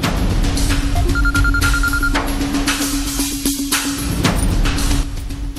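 A telephone rings with repeated electronic tones in a steady pattern, loud and close in a home, with no talking over it.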